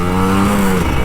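A Kawasaki Ninja RR 150 motorcycle, tested at night after a crash, gives a loud, close engine rev that holds briefly and then drops off.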